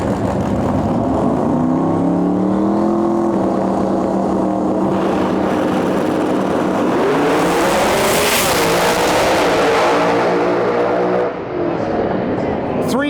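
Pro 275 drag cars, including a twin-turbo Mustang, roar loud and close in a sustained engine howl with rising gear-change pitch sweeps, while an announcer talks over the racket.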